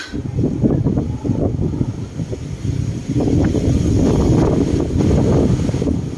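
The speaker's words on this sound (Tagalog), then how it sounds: "lakas ng ugong ng hangin" Strong wind roars steadily through fog at People's Park in the Sky, Tagaytay, a low continuous rumble buffeting the microphone with slight surges, no voices heard.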